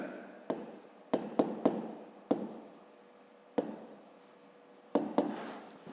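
A pen writes math working on paper in short scratchy strokes, punctuated by several sharp taps as the pen touches down, close and fairly quiet in an otherwise still room.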